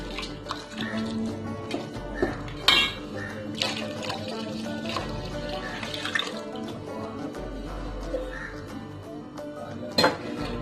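Heated milk, one litre, poured into a pot of carrot and broken wheat payasam gives a steady, continuous liquid pouring and splashing sound that runs throughout at moderate volume, with occasional clinks.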